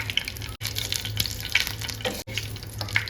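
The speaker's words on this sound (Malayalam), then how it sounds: "ഇനി ഇതിലേക്ക് ഒരു മൂന്ന് വറ്റൽമുളക് ഇട്ട് കൊടുക്കാം" Dried red chillies sizzle in hot coconut oil in a pan with mustard seeds and fenugreek, a steady close crackling hiss with brief stirring scrapes and two short gaps.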